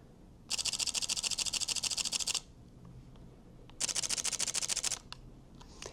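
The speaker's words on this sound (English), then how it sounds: "here is the shutter sound of the Fujifilm X-T5" Fujifilm X-T5 camera shutter firing in two rapid bursts of crisp mechanical clicks, each lasting about two seconds with a pause between, close to the mic and fairly loud over a quiet background.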